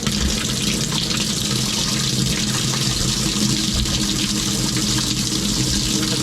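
Water runs steadily into the drum of an LG washing machine, rinsing out leftover suds, a constant broad gushing wash with no voices.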